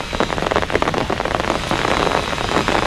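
Heavy rain pours during a strong storm, drumming densely and loudly on nearby surfaces. The roar is continuous, with many distinct drops spattering close by.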